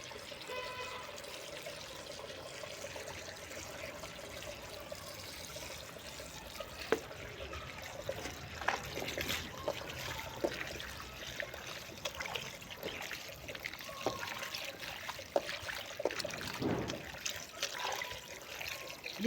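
Olives are washed under plenty of running water: a steady, even rush and trickle continues throughout, with occasional splashes and small knocks, and no voices.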